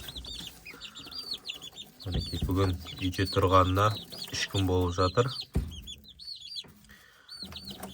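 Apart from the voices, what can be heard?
chicks chirping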